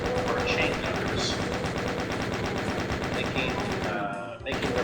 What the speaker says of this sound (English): making their presence known by firing upon us to the window.